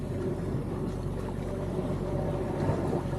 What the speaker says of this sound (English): Doing a bit of motoring now just to kind of make a bit of leeway.